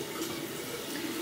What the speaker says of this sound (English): now I'm going back in with some water